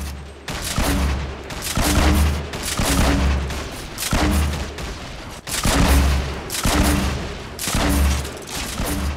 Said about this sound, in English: You just spam rockets at him.